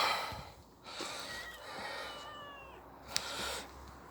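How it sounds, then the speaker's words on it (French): A cat meows a few times nearby, drawn-out, slightly strained calls with short pauses between them and no one talking. "vous entendez un bruit de chat?"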